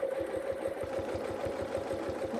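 A sewing machine runs steadily during free motion paisley quilting, a fast, even mechanical stitching patter with a constant motor hum, close and uninterrupted.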